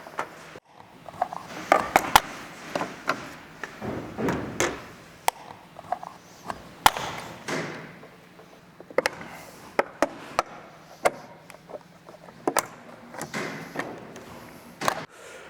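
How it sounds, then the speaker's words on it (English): Prying plastic roof rack mount covers off a 2008-2022 Toyota Sequoia with a plastic trim removal tool gives sharp plastic clicks, snaps and scraping taps at an irregular rhythm, close and fairly loud, with no talking. "just slide your trim removal tool in there and kind of work it until you have it pop off"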